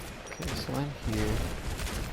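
Gunfire in the shooter game Overwatch, with repeated sharp shots in quick bursts mixed into busy game sound while a voice talks over it.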